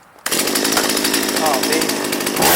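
A Stihl MS170 chainsaw, long unused and hard to start, suddenly fires and runs at a loud, steady buzzing idle, close by, with a voice briefly audible.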